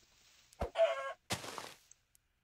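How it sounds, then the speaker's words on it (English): A Minecraft chicken gives a few short, separate clucks, close and clear against near silence, with brief quiet gaps between the calls. "And I do see a chicken."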